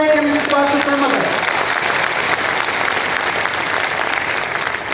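Audience applause fills a lecture hall, a dense, steady wash of many hands clapping at full strength for the whole stretch, with a brief voice at the very start.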